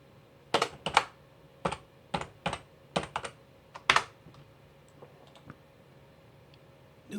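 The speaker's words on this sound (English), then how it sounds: "Right mouse button click." Computer keyboard typing folder names with some mouse clicking, a short run of crisp, close, separate key clicks in an irregular rhythm in a quiet room.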